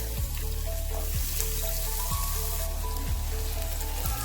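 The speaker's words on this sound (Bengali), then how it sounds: "এখন দিয়ে দেব কুচনো পেঁয়াজ।" Chopped onions fry with curry leaves for upma, making a constant close sizzle with faint stirring and a few short tonal chirps repeating through the background.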